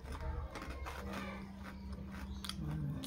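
Crunchy okra is bitten and chewed up close, giving soft crisp crunches and wet mouth sounds at low volume, with faint background hum.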